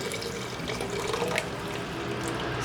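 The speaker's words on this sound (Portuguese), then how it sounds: "Então aqui eu vou colocar a água, que eu já dei uma esquentada nela" Warmed water pours from a container into a pan of pie filling with onion and garlic, a steady splashing, gurgling stream that runs continuously at close range.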